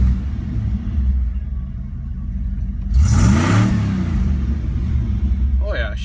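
Engine of a 1990 Ford F-150 pickup with valve clatter, idling steadily near the mic and then revving up in one swelling rise before settling back to a low rumble.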